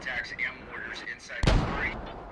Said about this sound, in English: They're going to make him feel like there's a lot more mortar action than there actually is.